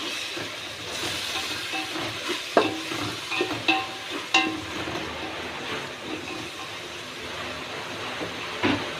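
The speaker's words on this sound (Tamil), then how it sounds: "இதை நல்லா மிக்ஸ் பண்ணுங்க" A spiced mixture with ginger-garlic paste being stirred in a pan, a steady hiss and scrape nearby, with a few sharper clinks of the spoon against the metal and nobody speaking.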